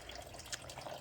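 Water drains from a Toyota Tacoma radiator during a flush, a faint, steady trickle and splash with small drips, continuous and without talk.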